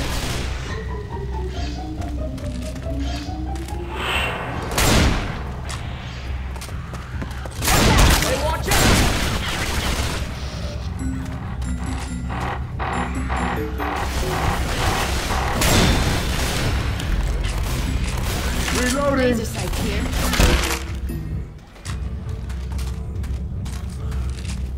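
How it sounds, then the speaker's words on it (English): Shotgun blasts in Left 4 Dead 2, a few heavy booming shots spaced several seconds apart amid clanking mechanical game noise and scattered voices. "Shotgun."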